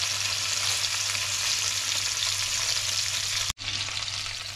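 Salmon sautéing in a pan with spicy black beans, a steady, close sizzle of hot oil that runs without a break, cut off for an instant by a short gap near the end before the frying resumes.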